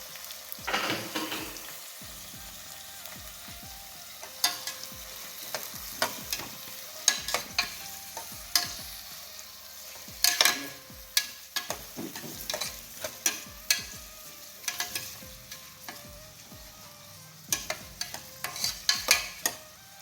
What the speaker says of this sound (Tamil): வெங்காயம் போட்டு நல்லா வதக்கி விட்டுக்கலாம்.